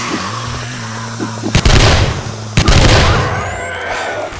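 Gunshots ring out in a video game during a zombie horde, two loud booming blasts about a second apart, each leaving a long decaying tail over a low hum.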